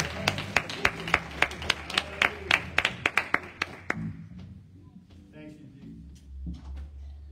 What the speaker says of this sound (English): Come on, clap your hands as she comes.